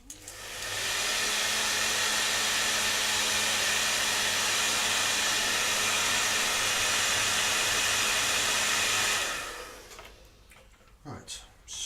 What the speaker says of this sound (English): We're just going to give that a hair dry.